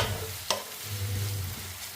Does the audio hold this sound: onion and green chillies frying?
yes